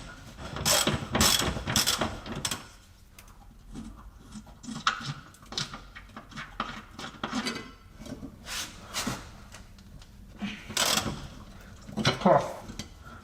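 A ratchet works bolts loose from a Jaguar S-Type differential, with bursts of rapid clicking ratcheting separated by pauses, mechanical rubbing and clanks close by.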